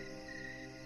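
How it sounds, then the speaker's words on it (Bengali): A cricket trills in a continuous, even chirr on a quiet night evening, faint and steady with no other sound over it. "কোথা থেকে ঝিঝি পোকা ডাকছে।"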